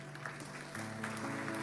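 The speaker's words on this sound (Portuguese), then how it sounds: "Você pode aplaudir a Jesus?" A church congregation applauds faintly under sustained organ or keyboard chords, the clapping a soft wash rather than distinct claps.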